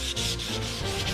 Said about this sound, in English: you guys are going to see me sanding this part